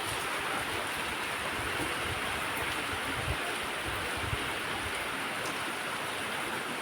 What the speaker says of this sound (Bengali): সকাল সকালে বৃষ্টি পড়ছে